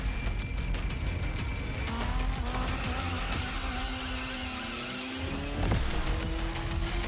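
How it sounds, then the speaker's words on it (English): A small RC car's high whining electric motor in the racing game The Crew Motorfest, pitch sweeping and rising steadily over a busy mechanical game soundscape, no voices. "Sounds like an RC car going out too."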